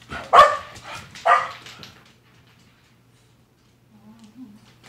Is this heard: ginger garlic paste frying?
no